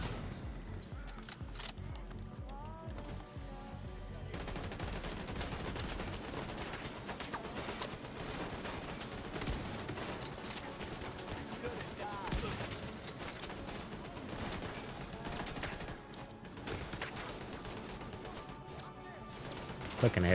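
A turret in The Division 2 hammers away at close range, a sustained stream of rapid gunfire and crashing impacts mixed with heavy combat noise, with a voice talking at times underneath.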